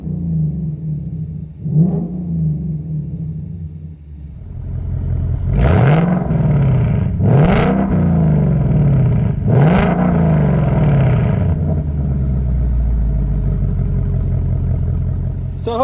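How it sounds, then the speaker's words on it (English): A 2019 Mustang GT with an H-pipe exhaust in track mode, heard from inside the car: an idle rumble, then three sharp revs that climb quickly and drop back, followed by a deep steady idle. "And here's the track exhaust."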